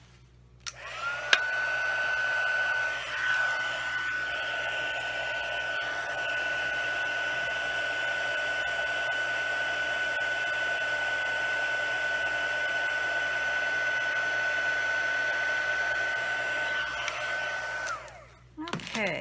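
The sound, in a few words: embossing heat tool blowing hot air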